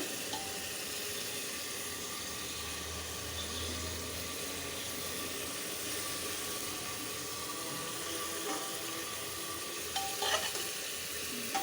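Spice paste with prawns fries in a pan for a bottle gourd curry, a steady soft sizzle with quiet stirring scrapes and a couple of sharper clinks near the end, no talking.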